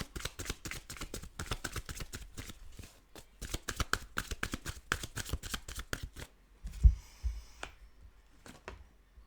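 Tarot cards being shuffled by hand, a rapid run of crisp close riffles and flicks in quick rhythm for several seconds, a brief pause, then a few more slaps and taps as the deck is handled.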